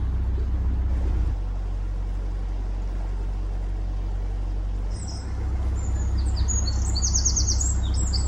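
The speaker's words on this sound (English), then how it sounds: "Can't see them, but you can hear them. Isn't that lovely?" Birds chirp and twitter faintly in the distance over a steady low engine rumble and broad background noise, heard from a boat cruising to Cosgrove.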